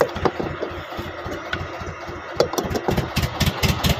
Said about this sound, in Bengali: মেশিন কিন্তু স্টার্ট দিয়ে দিয়েছে এইমাত্র